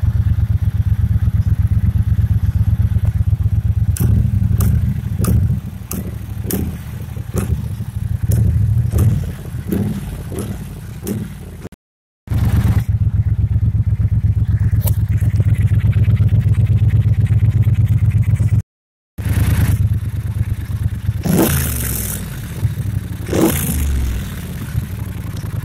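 A 2018 Triumph Bobber motorcycle engine idles with a deep, steady throb, then blips and revs in a series of sharp bursts, loud and close, with two brief silent gaps breaking the sequence.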